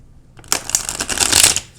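Tarot card deck being shuffled by hand, a dense run of papery riffling flutters that starts after a brief pause and continues steadily, close and fairly loud, with no talking.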